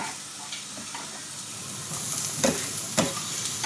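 Chopped onion, pepper and chili sizzle in olive oil in a pan: a close, steady frying hiss with a few sharper crackles and stirring scrapes near the end.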